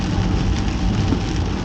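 Heavy January rain pours down steadily and loudly, a dense unbroken hiss with no talking and no pauses throughout.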